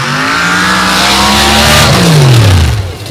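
A nitrous drag racing car, around 3,000 horsepower, makes its run down the track, its loud engine roaring and its pitch sweeping downward as it blasts past.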